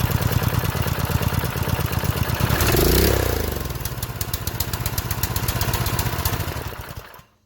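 A Generac power washer's small engine, just fitted with a new spark plug, runs at a steady, loud chugging rhythm for several seconds, swells briefly, then cuts out near the end.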